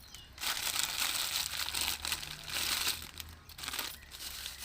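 Plastic covers crinkle and rustle steadily while kitchen waste is packed into them, a close, continuous crackling with no talking.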